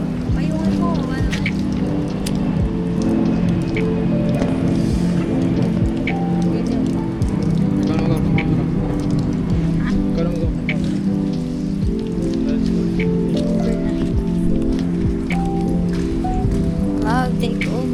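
Heavy rain pours steadily onto a hard surface on a market trip, dense pattering drops all the way through, with a low engine hum beneath.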